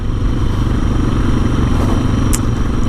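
A brand new 2020 Suzuki DR650 dual-sport motorcycle engine runs in a steady, loud, close low rumble throughout, with a faint brief clink partway through and no talk.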